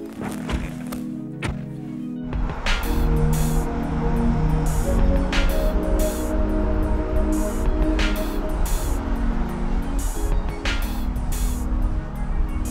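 A Ferrari 456 four-seater pulls away, its engine rising into a loud, sustained drone with shifting tones and occasional thumps from the car, and no one speaking over it.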